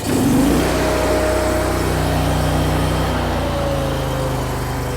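A DeWALT DXGN14000 commercial generator engine runs loud and steady up close, with a brief higher rise at the start before it settles into an even drone as the idle-down feature brings it down.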